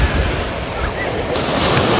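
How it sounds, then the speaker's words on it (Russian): A big ocean wave breaks on a crowded Phuket beach, a loud close wash of surf with heavy wind buffeting the microphone throughout. "И большая волна, можно сразу ее заметить."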